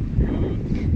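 Strong wind gusts during the dust season in Riyadh, a loud continuous low roar buffeting the microphone.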